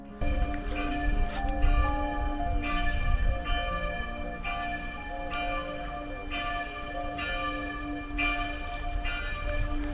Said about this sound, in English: You gotta love church bells, haven't you?